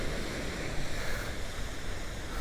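Surf on a Florida beach on a calm, sunny day with hardly any breeze, heard as a steady, moderately loud wash of waves with a soft rumble that carries on throughout.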